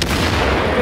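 A loud, booming blast from a grenade and gunfire in the video game The Division fills the short moment, a heavy low rumble with a sharp onset.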